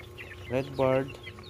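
Native and Americana chickens clucking as they eat and drink, two short close clucks with a faint background hum.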